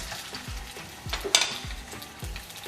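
A pound of mutton frying in a pot, giving a close, steady sizzle broken by several dull knocks and scrapes of a spoon stirring against the pot, with no talk.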